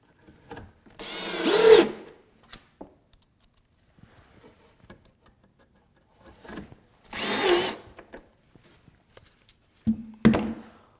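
A power drill drives screws into the top of a wooden fireplace bookcase column, with two loud whirring bursts a few seconds apart and a short final burst with a thunk, separated by quiet handling clicks and knocks.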